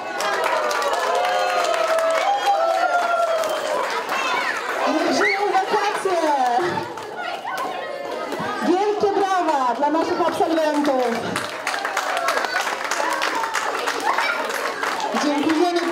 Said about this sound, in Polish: Prosimy o podrzucenie czapek i gorące oklaski.